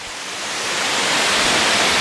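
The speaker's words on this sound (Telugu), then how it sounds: "వాటర్ ఫాల్స్ దగ్గరికి చూడండి వాటర్ ఫాల్స్ అయితే ఏ విధంగా ఉన్నాయో" Waterfall at Yercaud hill station in Tamil Nadu, a steady broad rush of falling water that swells slightly louder, heard alone without voices.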